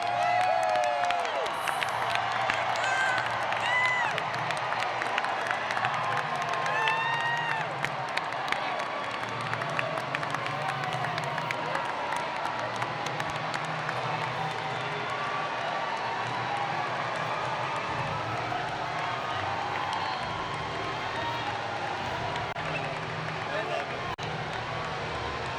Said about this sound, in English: The Trump plane going by and the crowd going wild